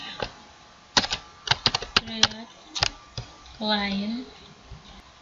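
Keystrokes on a computer keyboard while entering JavaScript code, arriving in short uneven bursts of clicks with pauses between them, fairly close, and a voice briefly heard partway through.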